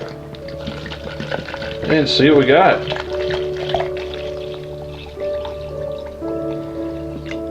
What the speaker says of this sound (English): And we're just going to add some water to that